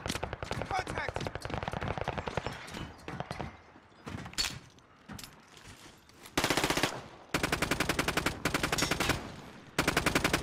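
Gunfire in Call of Duty: Modern Warfare: loud, rapid automatic bursts in several separate strings, with shorter pops and game noise between them.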